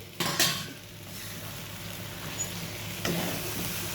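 Fried potato pieces being stirred into a masala paste in a pan, with a few sharp spoon scrapes and knocks against the metal over a low, soft sizzle and no speech.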